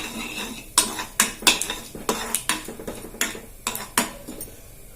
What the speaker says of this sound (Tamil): இப்போ இந்த தாளிப்பை சட்னியோட ஆட் பண்ணிக்கலாம்.